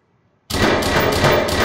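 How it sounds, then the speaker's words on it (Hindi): An explosion in the video game Watch Dogs 2 bursts in abruptly after near silence, a loud, dense roar that holds steady to the end. "ब्लास्ट होने वाला है, ब्लास्ट होने वाला"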